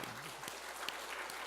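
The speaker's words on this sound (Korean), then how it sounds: "이 땅에 있는 모든 어버이들에게 감사의 힘찬 박수를 보내주시기" A church congregation claps for parents during a sermon on honoring one's parents. The applause is a brief, fairly quiet patter of many hands with a few sharper individual claps standing out.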